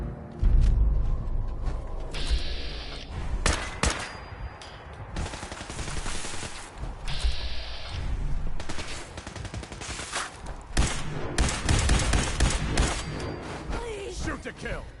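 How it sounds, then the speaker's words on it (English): Gunfire in Fallout survival mode, bursts of rapid shots and single cracks with mechanical clanks, loud and close, recurring across the stretch with a voice talking in between. "I need some covering fire"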